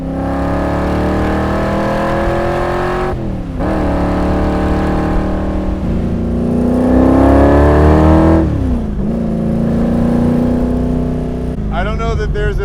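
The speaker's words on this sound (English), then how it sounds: "I don't know that there's a better sound than the sound of this 427 with side pipes." Superformance Cobra R with a Roush 427 V8 and side exhaust pipes drives past, its loud, rumbling engine note rising and falling through several gear changes, with talk over the top.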